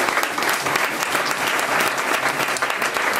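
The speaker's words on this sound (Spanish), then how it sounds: "Un aplauso para los 8." Classroom audience at a Spanish school claps for eight student journalists, a brisk, lively burst of many hands clapping close by, steady throughout.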